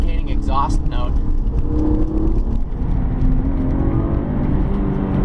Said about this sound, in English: it's completely masked by the intoxicating exhaust note